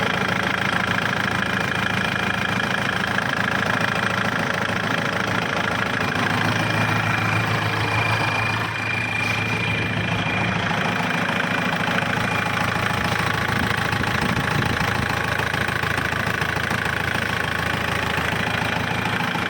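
A Kubota L4708 tractor engine idles steadily, a continuous mid-low mechanical drone with faint knocking texture that stays constant throughout, with no talking.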